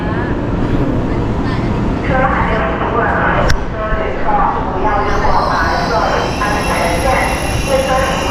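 A high-speed train rumbles along steadily with rolling wheel noise and a faint high squeal, while people talk in the background.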